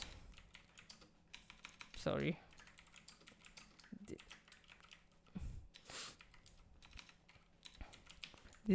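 HTML code is typed on a computer keyboard in quick, uneven bursts of close, soft key clicks, with a few louder knocks, under intermittent talk.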